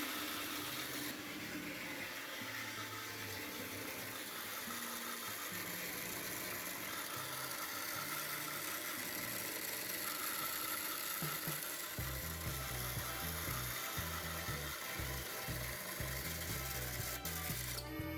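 A tiny 9.5-gram electric motor drives a 3D-printed gearbox with a 1:1446 ratio while lifting weights, giving a steady close whirring and grinding drone with ratcheting, pulsing gear clatter that grows choppier toward the end.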